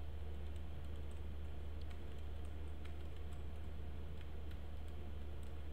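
Quiet typing on a computer keyboard, scattered light key clicks in an uneven rhythm over a low steady hum, with no speech.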